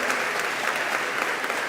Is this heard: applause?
yes